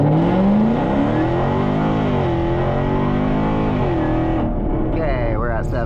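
Jaguar F-Type R engine and exhaust under way at around 70 mph on an open road, a steady deep drone with rising and falling rev tones heard from inside the cabin, fading near the end.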